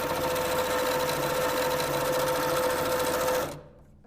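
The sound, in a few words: sewing machine stitching quilt block seams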